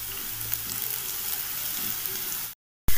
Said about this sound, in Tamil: வெங்காயம் நல்லா பொன்னிறம் ஆகிற அளவுக்கு வதங்கணும்.